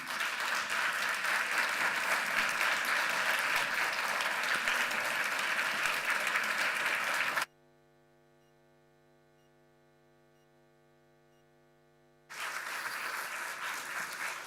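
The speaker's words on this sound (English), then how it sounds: "let's give him another round of applause" Conference audience applause at an environmental policy event, a dense sustained wash of clapping that abruptly drops to near silence with a low electrical hum for several seconds, then resumes.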